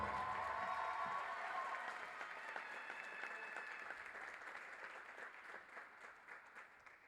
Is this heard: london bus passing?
no